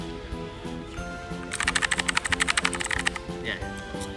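Rapid mechanical key clicks from a Cliptec RGK817 mechanical keyboard burst out for about two seconds, a dense run of sharp, close strokes over a steady musical background.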